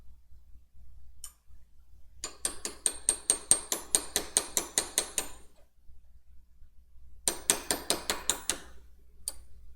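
Rapid runs of sharp metallic taps from a cold chisel being hammered under a part during mechanical wrenching work, in two quick rhythmic bursts separated by a pause.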